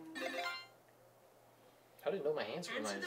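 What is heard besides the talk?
telephone ringtone in 1-2-Switch video game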